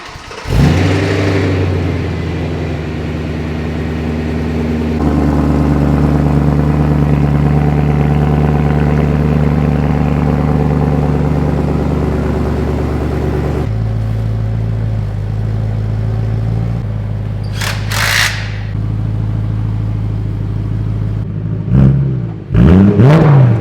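A BMW E92 M3 engine fitted with a new muffler exhaust runs loud and close, holding a deep, steady idle with a few sharp revs that swell in volume before settling back, no talking over it.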